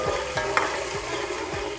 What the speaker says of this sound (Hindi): लहसुन अदरक को हम 1 मिनट तक फ्राई करेंगे